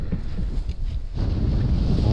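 Strong wind blowing across the ice during spring ice fishing on the Pechora, buffeting the microphone in a loud, continuous low rumble that surges and drops for a couple of seconds, with no talk.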